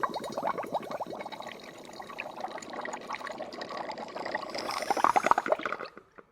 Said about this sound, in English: I'll get some soapy water and I'll shoot in the hydrogen